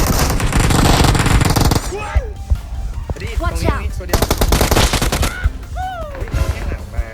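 Gunfire in PUBG Mobile opens as a dense, loud stream of rapid automatic shots, then continues in sharp bursts and single cracks while players talk excitedly over it.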